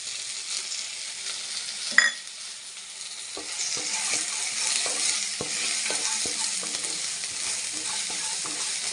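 Sesame and poppy seeds fry in a pan for brinjal gojju, a gentle, continuous sizzle with a sharp clack near the start and light, repeated stirring scrapes.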